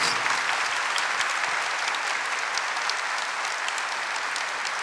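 A church congregation applauding at a Catholic Mass, dense sustained clapping from a large crowd that stays loud and even throughout.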